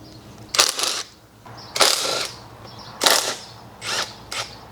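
A ratchet loosens the 10 mm oil pump bolts during a Chevy 5.3 engine teardown, heard as four short, close bursts of rapid clicking separated by brief pauses.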